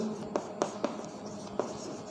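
Chalk or marker writing on a classroom board during a maths lesson, a few short, quiet strokes and taps spaced irregularly over a faint room background, with no talking.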